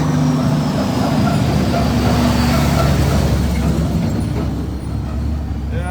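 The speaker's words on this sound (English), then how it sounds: "a little truck that's making some noise" A small truck runs outside a hotel entrance in St. Kitts, its engine a loud, steady rumble close by that lasts the whole stretch with a slight dip near the end.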